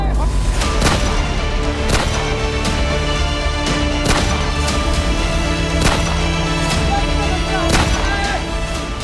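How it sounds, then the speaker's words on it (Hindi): During a riot with stone-throwing, gunfire is fired from a house rooftop, with sharp, loud reports cracking out repeatedly at irregular intervals over a constant din of crowd noise. "आसमान में हवा में गूंजती गोलियों की तड़तड़ाहट की आवाज दिल दहलाने के लिए काफी"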